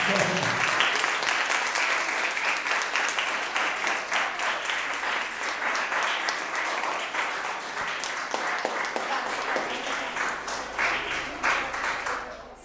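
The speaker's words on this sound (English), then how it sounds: "Please clap your hands for yourself." Loud, sustained applause from a school audience of teachers and students, dense clapping filling the whole stretch without letting up.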